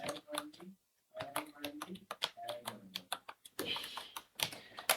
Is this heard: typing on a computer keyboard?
yes